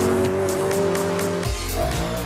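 A BMW M3 GTS squeals its tires loudly while drifting tail-out on a race track, the engine roaring steadily underneath and shifting pitch near the end.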